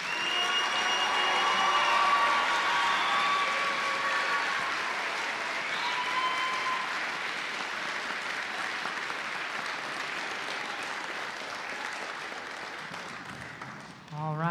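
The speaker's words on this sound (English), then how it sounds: "Big round of applause." Concert audience applauding a middle school honor band, dense sustained clapping that starts strong and gradually thins out over about fifteen seconds, with a few faint tones and a brief voice near the end.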